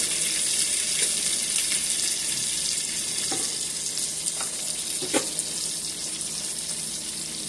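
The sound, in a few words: salmon frying in a pan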